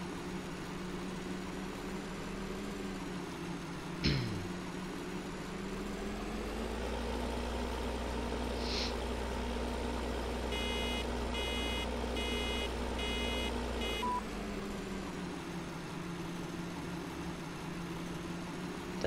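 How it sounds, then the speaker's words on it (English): A tractor in Farming Simulator 13 reverses uphill on a farm: a steady engine drone deepens into a heavier low rumble under load, with a run of evenly spaced reversing beeps and a sharp knock early on. "Come on, tractor, back up."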